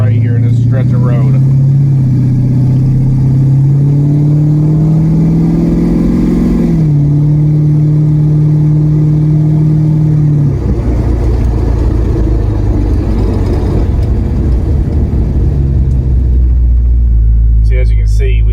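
A car engine with a recently fixed exhaust drone, humming loudly as it climbs steadily in pitch toward about 2,000 RPM, dipping briefly, then easing into a lower rumble, with a voice talking over it.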